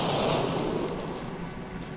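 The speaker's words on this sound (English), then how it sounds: "so I'll just go ahead and take a shot with you" An XCOM: Enemy Unknown soldier firing in combat, a loud burst of gunfire at the start that rattles and fades over two seconds.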